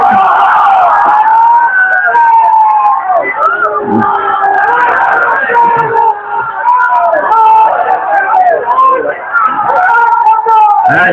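Large crowd at a religious gathering chanting takbir (Allahu Akbar) in loud, sustained unison, voices rising and falling in waves throughout.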